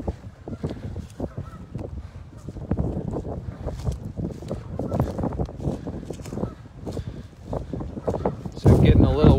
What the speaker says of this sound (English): So it's getting a little windy up here.